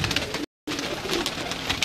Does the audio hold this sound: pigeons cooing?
yes